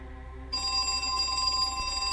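A telephone starts ringing abruptly and keeps ringing, a loud, bright, sustained electronic bell tone that fills the rest of the short stretch without any talk.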